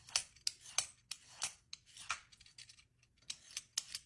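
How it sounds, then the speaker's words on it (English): A zucchini is peeled with a hand peeler, making close, scraping strokes in an irregular rhythm of about a dozen quick swipes with short gaps between them. "I'm gonna peel the zucchini until we have it nice and clean"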